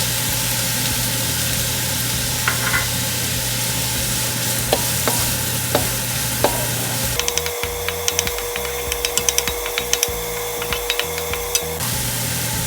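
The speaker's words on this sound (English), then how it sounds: "Just sauteing our celery. And then the carrots." Celery and carrots saute in a pan for a crab and corn soup, a steady sizzle with occasional stirring clicks and scrapes under a constant background hum, with no talking.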